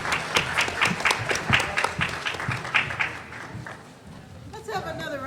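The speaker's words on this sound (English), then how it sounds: "Let's have another round of applause for just an outstanding panel." An audience at a panel discussion applauds, a dense crowd clapping with rapid, overlapping claps that fade out after a few seconds while a voice talks over it, then chatter rises at the end.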